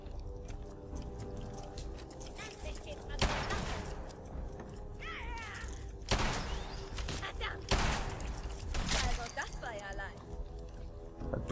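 Enemy gunfire in Fallout 4, several loud bursts of shots spaced through the scene over a low background hum, with faint mechanical clatter between volleys.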